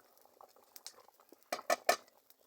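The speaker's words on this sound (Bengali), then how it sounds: "কিছুক্ষণ পর ঢাকনাটি সরিয়ে নিয়ে নাড়াচাড়া করে নিব।" A spoon stirs potato ghati with fried eggs in a pan once the lid comes off: a few quiet scrapes, then a short cluster of sharper clinks and scuffs close by.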